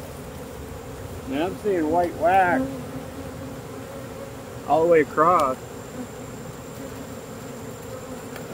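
Honeybees buzz around beehive supers in a bee yard, a steady close hum through the whole stretch, broken twice by a man's brief speech.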